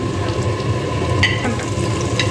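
Vegetables frying in a pan for restaurant-style noodles, a loud steady sizzle up close with a few light stirring clinks, no talking.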